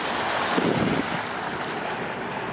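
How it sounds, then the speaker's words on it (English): Wind and ocean waves on the open sea during a passage from Fiji toward Coffs Harbour, a steady broad rushing roar with a brief surge of water wash, close and continuous. "Big ocean."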